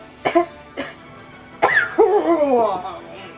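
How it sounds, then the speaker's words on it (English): Two short coughs, then a harsher throat-clearing cough trailing into a strained vocal sound, close and fairly loud. "I got an itch in the back of my throat. I need a cough."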